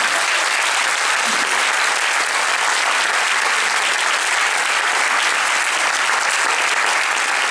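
A theatre audience at a premiere gives the technical staff a sustained round of applause, loud, dense clapping from a full house, unbroken and even throughout.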